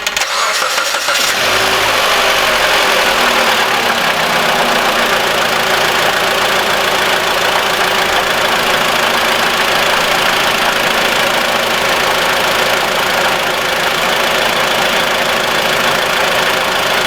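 A 2013 Mitsubishi ASX with a 1.8 engine cranks and fires up, then settles into a loud, steady idle heard up close for the rest of the clip, with no talking.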